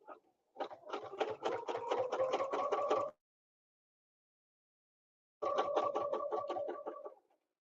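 Ruler quilting on a sewing machine with a quilting template and 60 weight bobbin thread: two bursts of rapid, even needle stitching, close and steady, separated by a silent pause.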